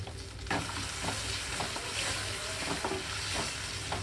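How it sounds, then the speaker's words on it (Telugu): Tomatoes frying with ginger-garlic paste in a pan for mint rice, a steady close sizzle punctuated by regular scraping stirs of a spoon, with no voices. "టమాటాలు కూడా వేసి వేయించుకుంటున్నాను ఇక్కడ"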